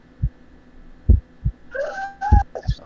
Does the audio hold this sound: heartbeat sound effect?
yes